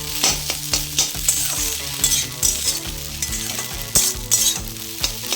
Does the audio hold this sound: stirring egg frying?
yes